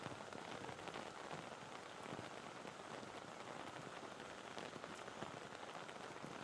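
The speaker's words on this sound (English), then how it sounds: "So we were hoping for this afternoon's rain just to pass over us, but unfortunately it's come straight in down off the mountain." Steady rain pouring down at a rugby ground near a mountain, an even, continuous hiss of drops hitting surfaces, moderately faint and with no voices.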